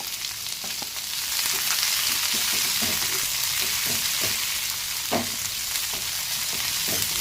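Thinly sliced long onions and green chillies frying in oil in a pan, a loud continuous sizzle close by, broken by scattered scraping knocks of stirring throughout.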